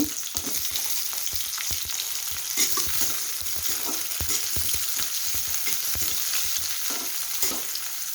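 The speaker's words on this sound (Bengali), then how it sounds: "পেঁয়াজটা তেলে দিয়ে 2-3 মিনিট ভেজে নেব" Coarsely cut onions sizzle and crackle in hot soybean oil while being stirred, with a continuous close frying hiss and occasional scraping stirs and no talking.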